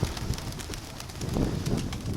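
A Mykolaiv breed pigeon coos softly in low, repeated pulses over a steady wash of wind and outdoor noise.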